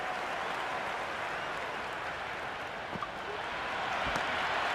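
Stadium crowd in the Cricket 26 video game roaring and applauding, a dense, steady wash of cheering that holds loud throughout with no break.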